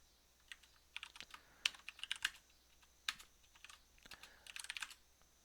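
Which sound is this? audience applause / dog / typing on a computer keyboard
typing on a computer keyboard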